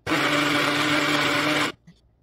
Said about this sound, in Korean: 잘안 갈리니 멸치액젓 3스푼 넣고 같이 갈아줍니다